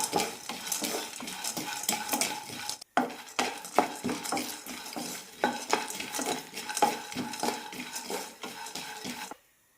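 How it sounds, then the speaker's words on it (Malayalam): Dry peanuts and roasted gram rattle and scrape in a pan as they are dry-roasted and stirred repeatedly, a rhythmic shuffling close up with a short pause midway. "കാൽ കപ്പ് നിലക്കടല കൊടുക്കാം കൂടെ തന്നെ കാൽ കപ്പ് പൊട്ടുകടലയും നന്നായി വറുത്തെടുക്കാം"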